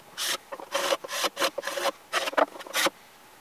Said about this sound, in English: So the first coat's on, and I could sand it, but it's just easier to scrape it